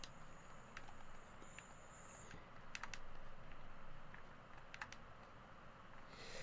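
Keys clatter on a computer keyboard in short, irregular bursts of taps, faint against a steady background hum, with small pauses between the runs of keystrokes.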